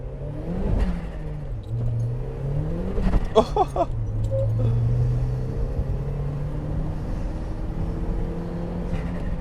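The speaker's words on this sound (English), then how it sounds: "we'll have a bit of high boost, but there will be wheel spin" Turbocharged Mk1 Mazda MX-5 driven on wet roads at high boost, engine rising and falling through revs with a loud mid-clip burst of turbo whoosh or flutter, close and steady from inside the car.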